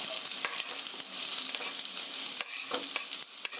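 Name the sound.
sliced onion and garlic sizzling in oil in a pan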